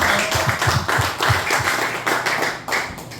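An audience claps for a guest speaker at an event on Jekyll Island, a close, dense burst of hand clapping with sharp individual claps and some voices underneath.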